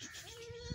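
A young Beetal goat kid on a farm gives a single short, quiet bleat, heard alone in a brief moment.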